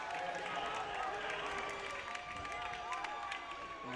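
Crowd cheering and applauding at a high school boys basketball game after a blocked shot, a steady loud roar of many voices filling the gym throughout.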